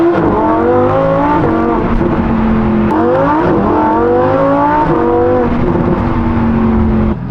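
A loud Lamborghini STO engine revs steadily under load after a radiator replacement, its pitch climbing and dropping in repeated sweeps, continuous with no talking.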